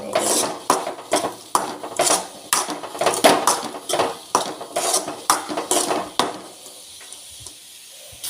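Taro stems frying in oil in a pan are stirred with a utensil, giving close, rhythmic scraping and clinking strokes roughly every half second. The strokes fade to quiet sizzling near the end.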